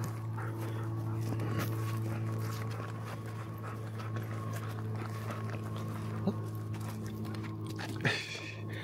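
A dog pants and shifts around nearby, soft rhythmic breathing with faint movement and a couple of light knocks over a low steady hum.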